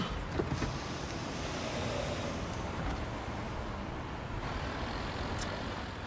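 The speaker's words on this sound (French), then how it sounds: "si tu ouvres la fenêtre" A steady motor whine of a car's power window opening, heard over a dense, continuous rumble of nearby traffic jam and idling vehicles.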